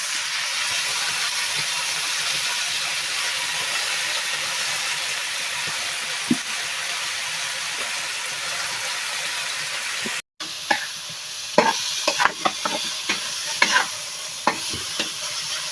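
Chopped leafy greens stir-fry in a pan with fried onion and chili, a constant sizzle and hiss that breaks off briefly, then returns with sharp spatula scrapes and clatter against the pan.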